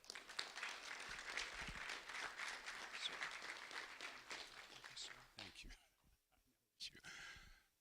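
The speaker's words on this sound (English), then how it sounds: "a round of applause for Staff Officer Claude Tyus." An audience at a school recognition ceremony applauds for a sheriff's staff officer, steady clapping heard from a distance for about five seconds before thinning out, with faint voices and room noise around it.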